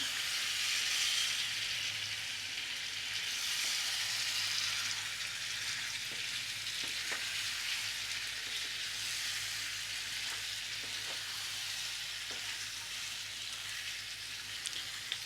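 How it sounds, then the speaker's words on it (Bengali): Mutton kosha sautéing with spices and Kashmiri chilli powder in a pan, a dense continuous hiss of frying oil with a few faint stirring clicks, close and steady, with no voices. "আমি পনেরো মিনিট ধরে মাংসটা কষাবো"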